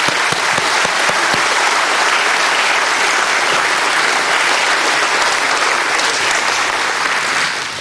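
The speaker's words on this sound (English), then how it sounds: "Let's give them all a big applause." Sustained, loud applause from a big audience at an aviation hall of fame ceremony, many hands clapping at once in a steady, unbroken wash of sound.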